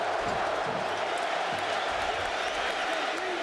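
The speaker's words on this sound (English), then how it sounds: "First time the Michigan crowd has come alive in the entire game." A large Michigan football crowd roars and cheers in the stadium at the Rose Bowl, a steady dense wash of noise with scattered whoops, distant and continuous throughout.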